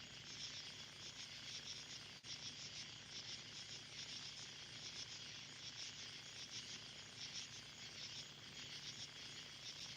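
Crickets chirping in a steady, dense nighttime chorus that runs continuously and evenly, fairly faint and with no voices.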